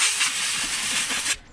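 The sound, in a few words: compressed air can spraying to clean brake parts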